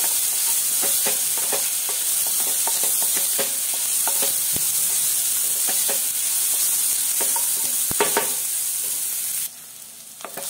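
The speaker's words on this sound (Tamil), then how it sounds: "இது நம்ம கைவிடாம வதக்கிக்கலாம், ஏன்னா நம்ம உப்பு போட்டுக்கிறதுனால சீக்கிரம் நமக்கு வதங்கிடும்." Chopped onions sauté with salt in a pan for a tomato recipe, giving a continuous close sizzle with scattered clicks and scrapes of stirring. The sizzle drops away near the end.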